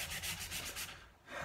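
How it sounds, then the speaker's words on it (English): Hand sanding on a wooden dining table gives a rhythmic back-and-forth rasp of abrasive paper on wood, about five close strokes in steady succession, then a brief pause before another stroke. "let's do a little bit of hand sanding here then"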